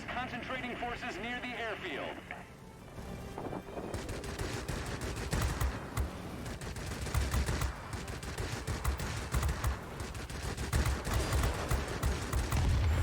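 Machine gun fire from fighter planes in World of Warplanes, a heavy fighter dogfight: dense, continuous gunfire bursts with engine drone throughout, loud and close, while a voice talks over it.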